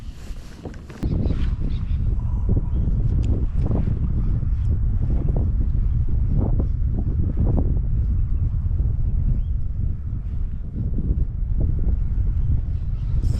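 Strong wind roars across open water around a small fishing boat drifting on its anchor rope, a loud, continuous buffeting rush with gusty peaks that starts abruptly and carries on without talking.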